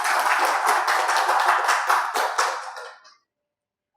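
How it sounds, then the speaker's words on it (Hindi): Audience at a stress management lecture claps loudly for about three seconds, the applause thinning and stopping abruptly into silence. "एक बार जोरदार तालियां बजाकर आदरणीय"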